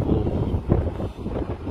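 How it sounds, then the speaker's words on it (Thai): Cool wind blows across an open-air, roofed spot just outside an airport, a steady buffeting rush against the microphone with no speech. "ลมเย็นไม่ต้องเปิดแอร์นะครับ"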